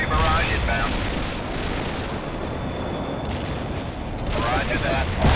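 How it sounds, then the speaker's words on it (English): An artillery barrage in the video game World in Conflict: a dense, continuous rumble of shell blasts and booms, loud and close, with radio-style voices heard briefly over it. "Artillery barrage inbound."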